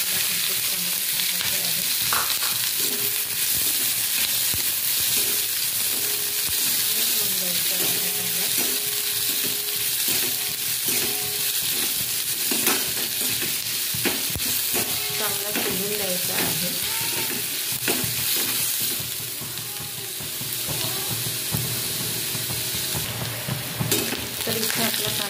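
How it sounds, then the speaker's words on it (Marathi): Onion pieces with garlic, chili and salt fry in hot oil, producing a loud, steady close sizzle with light stirring scrapes throughout and no talking. "त्यापासून मी 2-3 कांदे पाकळ्या टाकणार आहे. इथे आपले तेल तापलेलं आहे."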